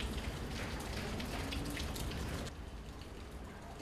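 Steady rain patters densely on nearby surfaces during heavy rains flooding neighborhoods in Buenos Aires, a constant hiss with scattered drips that eases slightly softer toward the end.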